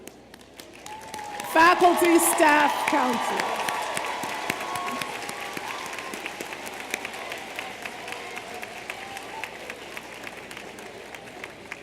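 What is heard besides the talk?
audience applauding faculty, staff and counselors at commencement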